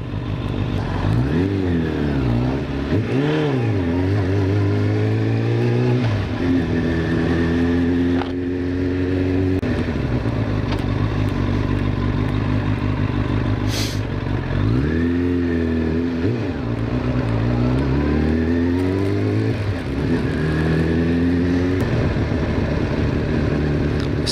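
Motorcycle riding along a road toward home, its engine loud and close throughout with repeated rises and falls in pitch as the rider accelerates through gears and eases off.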